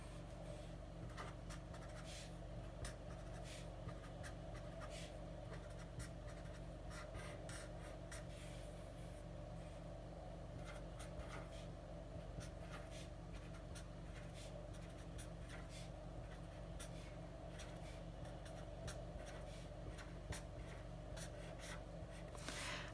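A pen or marker writes number labels on paper number lines in a fractions math lesson, giving a soft, steady scratching that goes on the whole time under a constant low hum, with no talking.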